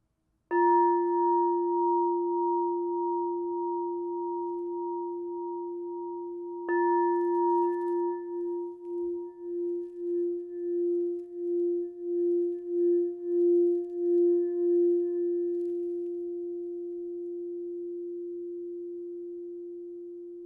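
Rose quartz crystal singing bowl ringing with a pure, steady tone, struck twice and then sustained with a slow pulsing wobble as it is played around the rim, calm and fairly soft with no voices.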